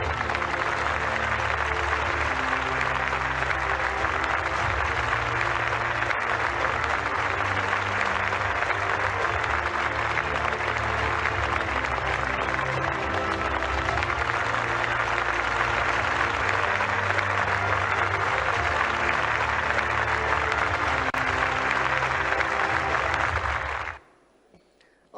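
An audience at a government ceremony applauds in a long, steady, dense wash of clapping that holds evenly for over twenty seconds, then stops abruptly.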